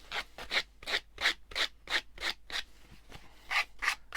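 Close, steady back-and-forth scraping as a file rasps the edges off an altered, Mod Podge-coated playing card, roughly a dozen strokes with a short pause midway.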